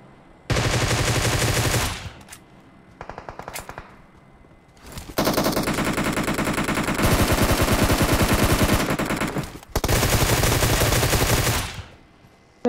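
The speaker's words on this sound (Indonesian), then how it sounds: "One hit AWM" Loud, sustained bursts of rapid automatic gunfire in a PUBG Mobile scrim match, alongside AWM sniper rifle use, come in three long volleys separated by brief gaps, with no voices.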